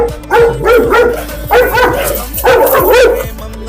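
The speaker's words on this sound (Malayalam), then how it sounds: "ഇതാണ് പട്ടി" A dog barks loudly and repeatedly nearby, in short bursts with brief gaps between them.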